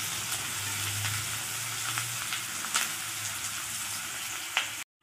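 Onions fry in hot oil with a dense, even sizzle throughout, broken by small crackling pops and one sharper spatter before it cuts off, for a jackfruit kima dish.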